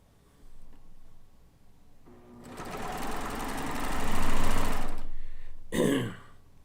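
A sewing machine runs a steady burst of stitching along a quilt block seam, close and loud, starting after a few softer clicks and thumps and ending with a short mechanical rattle.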